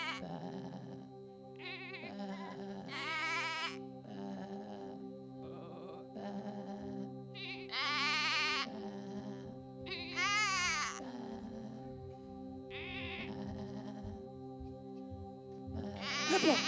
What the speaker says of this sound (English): Let the sheep in now.